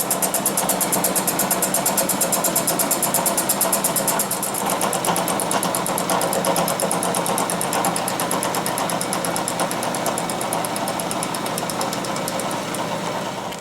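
Fly cutter machining a steel piece for a one-jaw vise, a dense rapid rhythmic ticking over a steady machine hum, continuous and close, with no talk.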